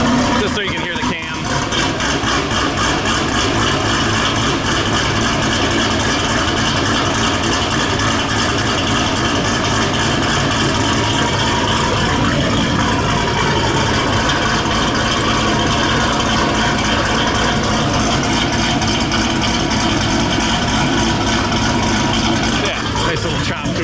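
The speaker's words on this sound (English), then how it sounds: "Idle's not perfect yet. Just so you can hear the cam." Supercharged fifth-generation Chevrolet Camaro SS V8 with an aftermarket cam, idling steadily with a choppy, loping rhythm, loud and close, continuous throughout with a brief spike near the start.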